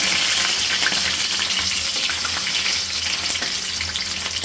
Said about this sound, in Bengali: এটা কিন্তু মেরে চেড়ে ভেজে নেবো